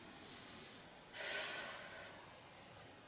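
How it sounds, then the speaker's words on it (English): Heavy breathing during a cardio core workout, faint audible exhales in two breathy bursts, the second stronger, close and quiet against a hushed background. "Breathing."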